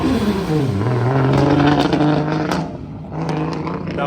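A car launches hard at a supercar gathering, its engine revving loudly with rising and falling pitch as it pulls away. The roar is close and continuous, then a second surge of revs follows.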